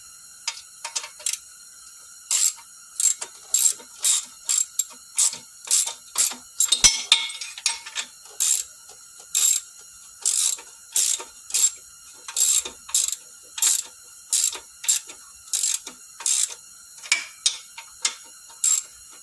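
A ratchet tightens catalytic converter bolts underneath a 2003 Toyota Sienna, giving a long run of quick, close clicking strokes in regular bursts with short pauses between them and no speech.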